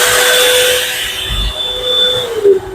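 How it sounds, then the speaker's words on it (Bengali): An electric hand dryer in the toilet of a Vande Bharat Express train, a steady whooshing blower with a faint whine, running close and loud for several seconds before trailing off. "এটা হচ্ছে হ্যান্ড ড্রায়ার"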